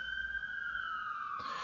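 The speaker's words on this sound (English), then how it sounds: "And there's a police car going by." A police car siren going by far off, a single sustained tone sliding gradually lower, faint and alone, ending in a brief soft rush of noise.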